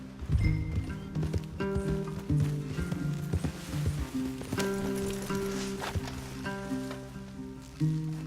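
Horses in Red Dead Redemption 2 move along in a steady clip-clop of hooves, fairly close, set against a soft game music bed with no talking.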